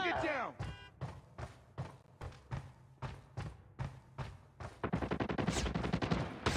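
Gunfire in a Call of Duty: Mobile team deathmatch on the Highrise map, with a steady rhythm of sharp single shots that turns into a fast automatic burst near the end, loud and close, along with brief voice callouts.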